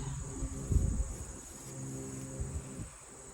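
Honeybees humming in a small hive during an inspection, a close, continuous high buzzing with low rustling underneath.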